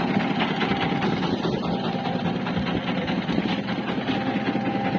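A trawler boat's engine runs steadily near the shore of Patenga sea beach, a loud, continuous low rumble and vibration with no talk.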